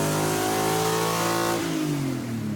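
A Volvo fitted with a V8 engine revs hard, its loud tone climbing and holding steady before the pitch drops sharply as the throttle comes off partway through.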